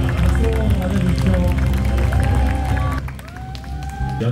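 Audience at a Korean film awards ceremony clapping loudly for an acting award winner, sustained dense applause with music or tones running underneath, easing slightly near the end.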